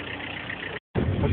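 A Russian-built engine runs steadily and loud up close, its broad rumbling drone breaking off for a moment before resuming heavier.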